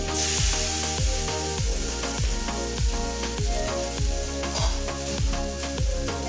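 Spinach paste for palak paneer sizzling hard in a hot pan, a loud continuous hiss with a steady run of rhythmic stirring knocks, about two each second.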